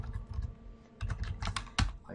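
Keystrokes on a computer keyboard typing a short word, a quick run of close, crisp clicks and taps in two bursts with a brief pause between.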